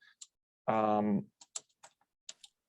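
Sparse keystrokes on a computer keyboard while a company name is typed into a job search site, soft scattered clicks around a short voiced sound.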